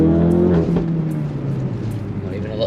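A remapped Ford Focus RS MK3 with a Revo Stage 1 tune accelerates hard, its engine note loud and close with a steady rising drone. It continues throughout with faint crackles near the end.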